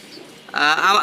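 Racing pigeons coo close by, a soft murmur giving way to a louder, warbling coo in the second half.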